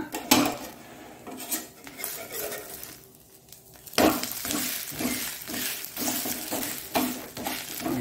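Sajjige rotti is turned over in a pan on the stove with clanks and scrapes of a metal utensil against the pan and a light sizzle underneath, the knocks coming in irregular bursts.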